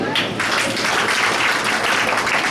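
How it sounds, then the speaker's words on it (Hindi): An audience at a spiritual discourse gathering in Gaur City, Noida claps together, a dense, steady wash of applause filling the whole stretch without a break. "एक बार ताली बजाएंगे"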